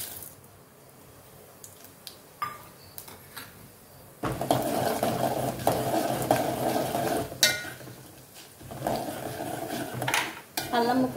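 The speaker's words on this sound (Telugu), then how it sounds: "మినపప్పు, ఆవాలు, జీలకర్ర ఇందులో వేసేస్తున్నా" Chana dal, urad dal, mustard seeds and cumin hit hot oil in a pan for a millet upma tempering: light utensil clinks first, then a sudden close sizzle swelling and crackling steadily, with a brief dip partway through.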